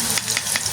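Boondi frying in hot oil, a dense close sizzle with crackling pops and faint stirring, steady throughout with no talk.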